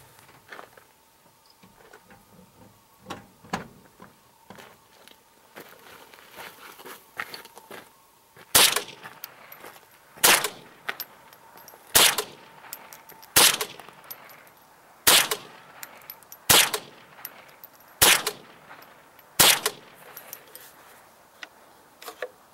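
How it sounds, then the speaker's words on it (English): Henry AR-7 rifle fired at a wooden target about 25 yards away: nine sharp, loud shots spaced roughly every one to two seconds, preceded by faint handling clicks and ticks. "I'm going to fire the weapon."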